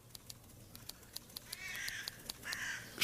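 A tame jackdaw gives a series of short, sharp 'chack' calls in an irregular rhythm, close and clear, with a few calls bunching together and rising in intensity toward the end.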